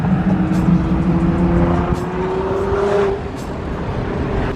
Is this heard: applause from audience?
no